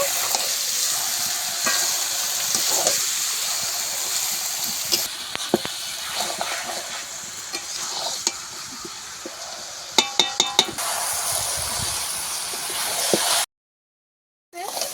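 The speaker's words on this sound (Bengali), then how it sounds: "এবারে মাংসটাকে দিয়ে দেবো এবারে ভালো করে মশলা মাংসের সঙ্গে মিশিয়ে দেব" Chicken is stirred and fried with spice paste in a pan, making a loud, continuous sizzle and hiss with scraping stir strokes and a quick burst of clinks before a brief cutoff.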